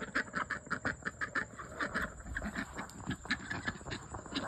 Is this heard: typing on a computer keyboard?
no